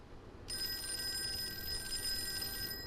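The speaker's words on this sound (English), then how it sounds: "Phone is ringing." Old telephone bell ringing in the Call of Cthulhu video game, a sustained electric trill that starts suddenly and holds for a couple of seconds over dim room ambience.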